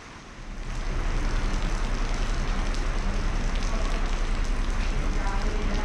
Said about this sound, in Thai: ฝนตกว่ะครับท่านผู้ชมฝนตก